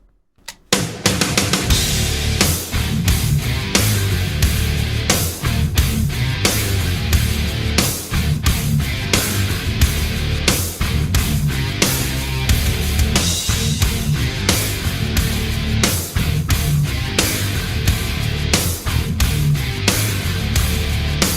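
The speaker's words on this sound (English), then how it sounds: "So the thing that jumps out to me right off the bat is the snare sound." Dense, loud heavy metal mix with a sharp, punchy cracking snare hitting in a steady, slow groove over thick distorted guitars.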